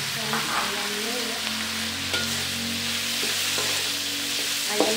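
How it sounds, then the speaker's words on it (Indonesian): Chicken frying with belacan in a hot pan for spicy fried rice gives a loud, continuous sizzle, with occasional scraping stir strokes heard up close. "Add the chicken, masukkan ayamnya ya."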